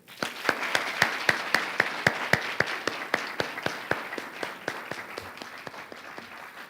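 Applause at an MLK celebration event for a committee leader: a modest audience's hand claps ring out in a steady, fairly sparse rhythm, distinct individual claps over a softer patter, tapering slightly toward the end.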